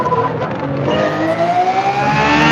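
A racing car engine in Forza Motorsport revs loudly and climbs steadily in pitch as it accelerates, close and continuous.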